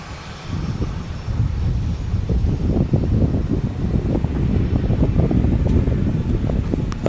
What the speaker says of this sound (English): And then we got another aircraft taxiing out